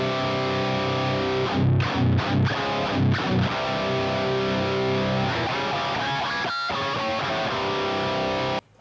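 Heavily distorted death metal guitar through a Marty Friedman signature SansAmp pedal plays close and loud, with tight low-end chugs, abrupt stops and sustained saturated notes before cutting off sharply.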